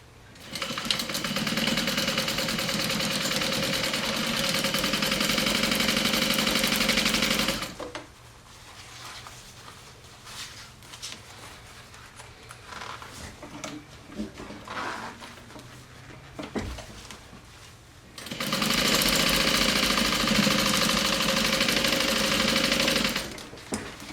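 A sewing machine runs in two long steady bursts as it sews a Sallie Tomato SHAW backpack, with quieter fabric handling and small clicks between the runs.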